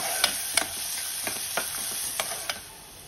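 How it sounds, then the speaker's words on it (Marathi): Finely chopped onion sizzles softly in a pan with cloves and peppercorns for veg pulao, a steady faint frying hiss broken by several quick scrapes of a stirring spoon. "आता याच्यामध्ये 1 बारीक चिरलेला कांदा घालायचा।"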